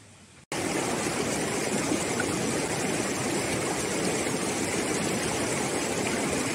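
A cold mountain spring stream in the forest near a village by Moeciu, Romania, rushes steadily and loudly after a short quiet moment at the start, with no voices.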